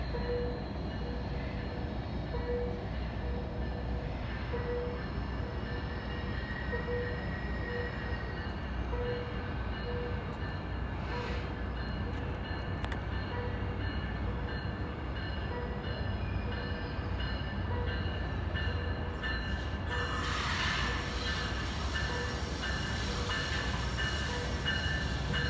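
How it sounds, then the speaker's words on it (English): An ACE commuter train passes at close range in San Jose, California, with a continuous loud rumble of wheels and cars and faint squealing. The roar holds steady for the whole stretch. "And I believe this is Ace Train 1."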